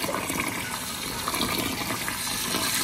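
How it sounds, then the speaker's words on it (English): Rice is washed by hand in cold water, with a continuous gushing, splashing run of tap water filling and churning in a bowl, close and steady for the whole stretch, with no speech. "Now you need to put this in water and wash it very well."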